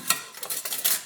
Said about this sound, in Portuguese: Cheguei do trabalho agora e estou lavando louça